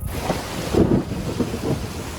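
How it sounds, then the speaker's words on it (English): Heavy Louisiana rain pours down in a constant broadband roar with low rumbling surges, heard close and loud with no talking. "And then it's Louisiana rain."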